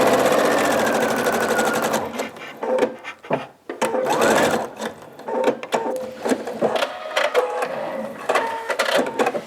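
A sewing machine stitches jelly roll quilt strips, first in a fast steady whir, then in short stop-and-start bursts of rapid needle clatter, close and loud, with no voices.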